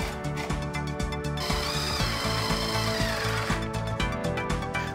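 A power drill drives screws into a glass wall frame, anchoring a fixed panel, with a loud sustained motor whine and rhythmic ratcheting pulses of the screw biting, steady and close throughout.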